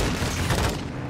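Sustained light machine gun fire in Call of Duty Modern Warfare II, a dense, continuous burst of rapid shots that stays loud and close throughout.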